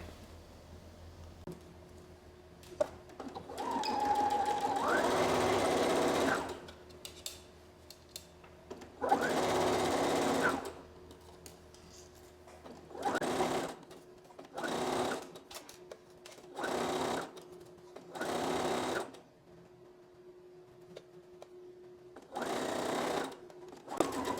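A sewing machine stitches a straight line in repeated bursts, about eight runs of fast whirring needle motor, the first few longer, each separated by short quiet pauses.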